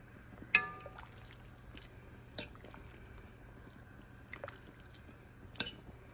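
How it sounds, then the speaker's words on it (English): Spaghetti being stirred in a pot of boiling water in a quiet kitchen. Soft sloshing and a few faint watery clinks and drips come at irregular intervals over a low steady hum. "Spaghetti is added to the boiling water. Now I stir to separate."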